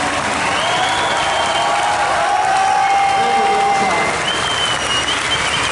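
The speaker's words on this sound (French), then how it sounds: "je vais vous demander un tonnerre d'applaudissements pour monsieur Yoshida" Sustained applause from a conference audience at a Final Fantasy XIV presentation at Japan Expo 2013, a dense, loud wash of clapping with some cheering and crowd noise that runs unbroken for several seconds.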